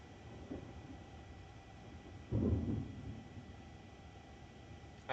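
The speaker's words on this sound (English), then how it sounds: "I hope y'all can hear that thunder." Thunder rumbling during a severe storm: a single low, muffled roll swells midway and fades over a second or so, distant and faint against a steady hiss of wind or rain.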